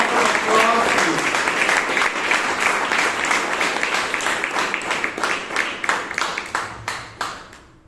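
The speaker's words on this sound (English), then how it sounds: "So can we all give them a huge round of applause, please?" Audience applause at a Bangalore Toastmasters meeting, a full burst of many clapping hands that gradually thins into fewer, separate claps as it dies away, with a voice briefly heard among it.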